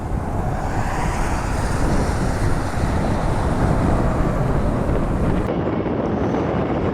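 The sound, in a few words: wind and rain at airport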